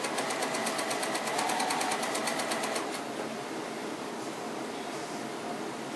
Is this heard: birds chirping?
no